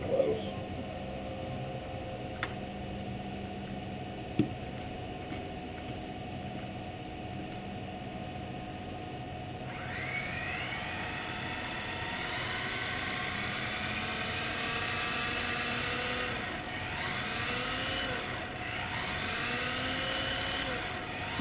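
A Kyosho RB6 RC car running at a little over quarter throttle emits a high electric whine that rises and falls in pitch as it speeds up, over a constant background hiss.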